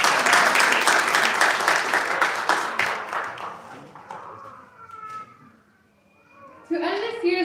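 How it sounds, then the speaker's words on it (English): Audience applause at an outdoor Pakistan Resolution Day flag-raising ceremony, loud and dense at first, then thinning and fading to near silence before a voice begins speaking. "Can everyone please give them another round of applause?"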